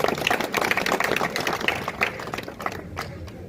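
Villagers of Jodhpuria clapping together at a gathering, a dense ragged patter of hands that stays fairly loud, then thins and fades toward the end.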